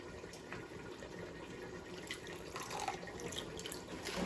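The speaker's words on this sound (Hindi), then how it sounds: "पानी में बॉईल आ रहा है, तो अब डाल देते हैं हम इसमें चावल" Soaked sella rice poured into a pot of boiling water while cooking mutton pulao, heard as a quiet splashing and trickling of water with faint clinks, low and close, with no talk.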